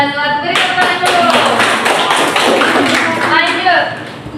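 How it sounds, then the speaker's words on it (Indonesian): A classroom group of students claps hands together in a loud, dense burst of overlapping claps that fills the clip, with voices mixed in. "Beri tepuk tangan dulu"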